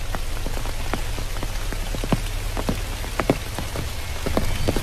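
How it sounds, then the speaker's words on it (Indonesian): Heavy rain pours down at night in a dark place, a dense steady hiss with sharp drops pattering close by on a surface, loud and constant throughout. "Dan ini bener-bener kondisi hujan deras."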